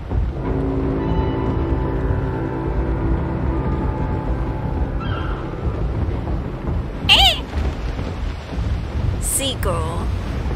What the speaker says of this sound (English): Seagull.